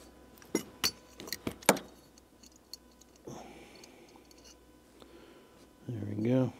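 Loose metal snowblower parts from a neglected Craftsman machine being gathered up, giving a quick series of sharp clinks and rattles near the mic, then a pause and a brief low scrape near the end.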